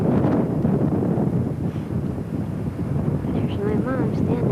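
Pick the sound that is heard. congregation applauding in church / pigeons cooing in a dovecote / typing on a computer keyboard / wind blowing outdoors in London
wind blowing outdoors in London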